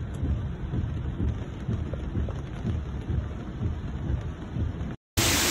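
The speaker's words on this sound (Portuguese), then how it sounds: "Mais chuva aí, Brejinho." Heavy rain pours down steadily in a dense, loud wash, and low thunder rumbles underneath it. Near the end there is a brief dropout before another loud burst.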